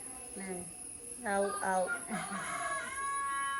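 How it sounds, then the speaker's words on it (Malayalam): A rooster crows loudly nearby, its long drawn-out call rising and falling, with clucking and other fowl sounds around it. "കോഴിണ്ട്, ഞങ്ങക്ക് ഇവിടെ കൊക്കൊക്കെ ഉണ്ട്."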